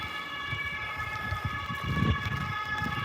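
A German emergency vehicle siren wails in steady, sustained tones from some distance, heard over rumbling outdoor background noise and no talking.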